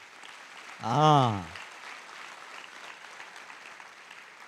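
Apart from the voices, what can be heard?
audience applause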